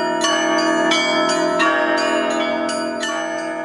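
Newly consecrated church bells in Karmazinovka ring out in rapid, overlapping strokes, a loud, rich clangour of several bells struck in quick rhythm with sustained ringing tones.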